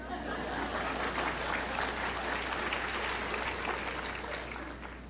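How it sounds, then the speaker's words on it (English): A large graduation ceremony audience applauds in a dense, sustained wash of clapping with faint chatter and laughter mixed in, steady from start to finish. "You can go ahead and applause"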